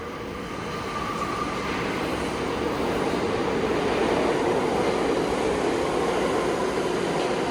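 A subway train rumbles through the Oculus transit hub in New York, a broad steady roar that builds slightly and holds, echoing in the large underground space with no talk.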